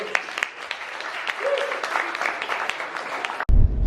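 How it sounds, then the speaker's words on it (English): An event audience gives steady, lively applause that holds for several seconds, with a voice briefly heard over it before the sound cuts off abruptly near the end. "Give her a big round of applause"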